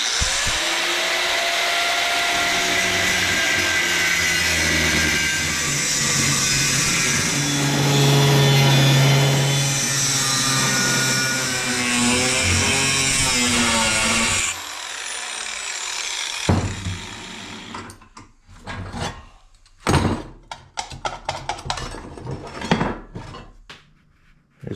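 Steel square tubing cut for custom frame rails on a Datsun 280Z project, a loud continuous power-tool whine for about fourteen seconds, then quieter intermittent bursts and knocks of handling metal.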